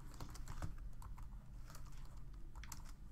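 Quiet, rapid clicking of keys on a computer keyboard, a steady patter of soft taps heard close and alone for a few seconds.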